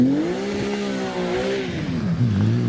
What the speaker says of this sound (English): It is the GT3 Cup Porsche 911 that is heading up the hill.